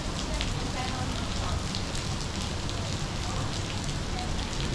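Steady rain falls on the pavement of Rua do Regedor in Taipa Village, Macau, a dense, even hiss of drops that holds at the same loudness throughout with no break.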